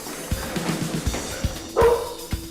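A pit bull terrier barks inside a flat during a dawn police raid, a series of short sharp barks at a steady pace, slightly muffled and moderately near.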